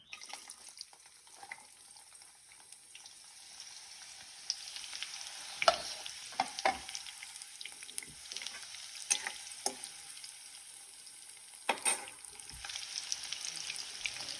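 Onions sizzle in hot oil in a home kitchen while a Telugu chicken curry with red chillies is cooked. A soft, continuous frying hiss runs throughout, broken by several sharper scraping stirs of a spatula against the pan.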